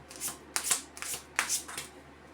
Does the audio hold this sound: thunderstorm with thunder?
no